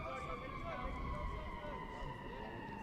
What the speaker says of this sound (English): Sirens blare in the Chicago background as that pitch comes in.